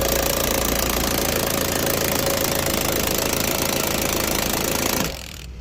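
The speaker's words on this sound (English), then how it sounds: "Milwaukee 18-volt impact from Home Depot and a 7/8 size socket, and I'm just going to run this up real quick." Milwaukee 18-volt cordless impact wrench with a 7/8 socket running lug nuts on a Chevy Blazer, a loud steady buzzing hammer rattle that holds for about five seconds, then stops abruptly.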